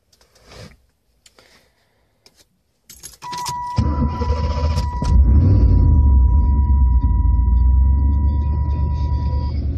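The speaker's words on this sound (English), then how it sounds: "Car starts right away." A 23-year-old car with a cloth interior: keys jangle briefly, then the engine cranks and catches right away, settling into a steady, loud idle with a constant chime ringing over it.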